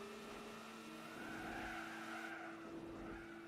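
A car in Gran Turismo 4 snaps into oversteer and its tires squeal and skid for several seconds, a sustained screech over the droning race engine.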